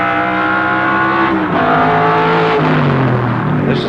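Big-engined touring cars, a Ford Falcon GTHO and a Mustang, roar loudly and steadily in a 1973 race at Warwick Farm, their engine notes rising and shifting pitch as they power past close by.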